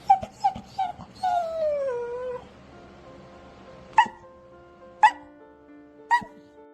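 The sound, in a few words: dog Scooby whimpering and barking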